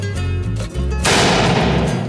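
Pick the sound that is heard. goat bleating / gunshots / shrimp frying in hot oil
gunshots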